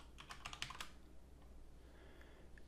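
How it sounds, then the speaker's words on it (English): Quick bursts of keystrokes tap on a computer keyboard, a short flurry of close, crisp clicks that then stops, leaving quiet room tone. "I'm just going to type in copy website"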